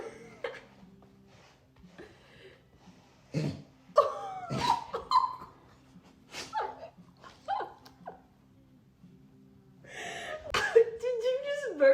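A golden retriever puppy sneezes several times during brushing, short sharp snorts mixed with breathing and snuffles, with people talking in between.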